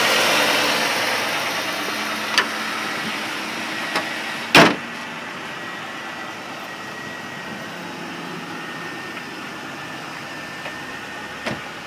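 A 2007 Dodge Charger SXT, an ex-police car, idling with a steady low hum after starting, recorded close, with a few brief clicks and clunks and no talking.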